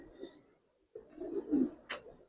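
A long-necked Giribaz pigeon, a hen, gives low throaty coos close by in a quiet setting, a short burst, a pause, then a fuller rolling coo and a brief higher note.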